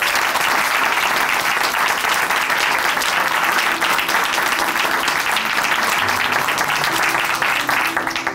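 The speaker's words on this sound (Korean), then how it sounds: "우리 다시 한번 안순호 자매님께 큰 박수 보내드릴게요." Church congregation at Chuncheon Hanmaeum Church gives loud, sustained applause for a testimony speaker, a continuous dense wash of clapping from the whole room that lasts throughout.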